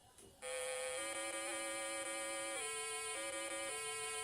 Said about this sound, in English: nothing but PC speaker farts and beeps